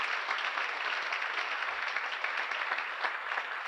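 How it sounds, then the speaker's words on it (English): Steady audience applause at a 2024 Town of North Hempstead inauguration ceremony, dense clapping filling the room continuously for several seconds with no talk over it. "let's a round of applause for Kimberly."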